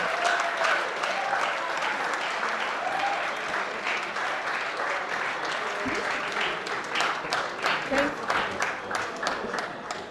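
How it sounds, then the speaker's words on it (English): Audience applause in a conference hall, steady clapping lasting about ten seconds with a few individual claps standing out near the end and faint voices underneath. "Give me a round of applause"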